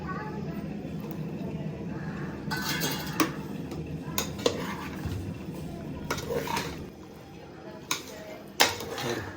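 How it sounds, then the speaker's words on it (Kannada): Vegetables and mushrooms being stirred in a cooking pot for homemade veg pulao, with a spoon scraping and clanking against metal in sharp, irregular knocks over a low background rumble. "ಇದ್ರ ಜೊತೆಗೆ ನೆಕ್ಸ್ಟು ಮಶ್ರೂಮ್ ಕೂಡ ಮಿಕ್ಸ್ ಮಾಡ್ತಾ ಇದ್ದೀನಿ"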